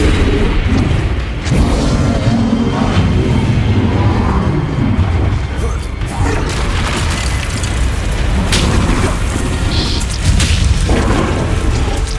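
A loud magical blast with heavy booms and crackling bursts in the Hogwarts Legacy video game, set among ongoing combat effects with no talk.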